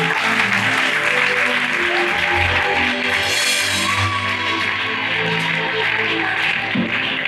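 A church congregation at a French-language thanksgiving service breaks into loud, continuous applause that fills the room steadily for several seconds, with faint voices mixed in.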